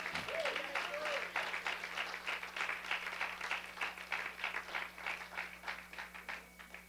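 A congregation at a Spanish-language prayer service claps for the Lord in an even, rhythmic beat that carries on steadily, with a voice heard briefly at the start.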